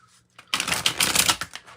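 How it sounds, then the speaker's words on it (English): A short, crisp riffle of tarot cards being shuffled, a quick burst of papery flutters after a brief quiet moment. "I'm going to pull out some cards"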